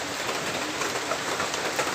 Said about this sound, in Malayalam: രാവിലെയും മഴ ചെറുതായിട്ട് അങ്ങനെ പെയ്തുകൊണ്ടിരിക്കുകയാണ്